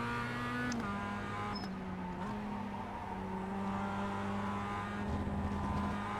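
A production race car engine in the iRacing sim holds a steady droning tone with small shifts in pitch as the throttle changes, moderately quiet and continuous, with no talking.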